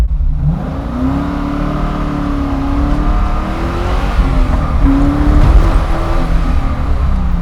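A 600hp V8 engine in a custom 1966 Ford Mustang Fastback revs loudly and continuously, its pitch rising and falling as the throttle opens and eases, close and throaty.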